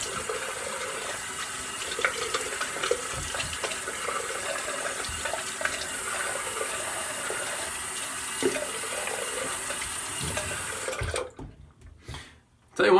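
Tap water runs steadily into a sink for rinsing during a wet shave with a Gillette Tech razor and Williams mug soap, then cuts off near the end.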